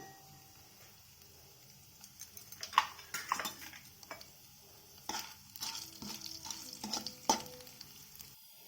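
Cumin, urad dal and chana dal are tempering in hot oil for an amaranth leaf stir-fry. Faint sizzling runs under scattered clinks and scrapes as a utensil stirs the pan, with louder stirring bursts in the middle.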